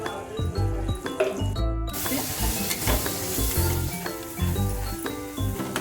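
Ground masala with turmeric, red chilli powder and coriander powder is sautéed in a pan for a spicy vajdi dish, giving a close, bright sizzle broken by repeated rhythmic stirring scrapes and knocks of a spoon.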